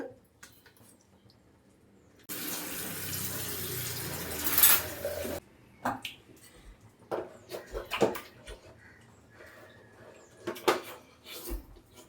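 Tap water runs steadily into a pot for a few seconds to boil water for tea in a home kitchen, a continuous hiss that then stops, followed by scattered clinks and handling noises.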